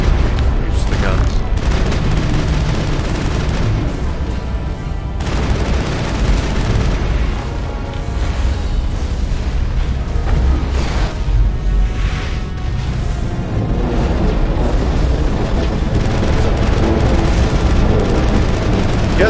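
Sustained gunfire and booming explosions from the Mass Effect video game, loud and continuous with dense bursts and blasts throughout, while players talk over the combat.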